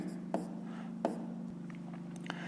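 A pen scratches on paper in a few short strokes and taps, faint and close, while a low hum runs underneath.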